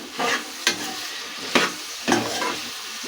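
Plantain pieces stirred in a pan with turmeric and salt, a soft steady sizzle broken by several distinct scraping strokes of a spoon, close and clear with no talking.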